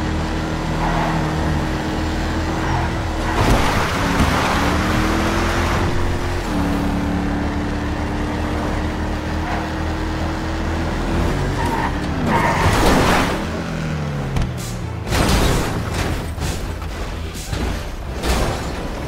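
A sports car in a video game drives hard with a loud, steady engine drone that shifts pitch through gear changes, broken by bursts of tire skidding and screeching, with no talk.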